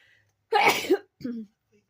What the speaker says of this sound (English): hang on, I'm going to sneeze